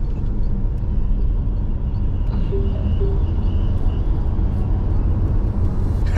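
Chery Tiggo 8 CSH car accelerating hard from the inside, a loud steady low engine and road rumble that holds without a break.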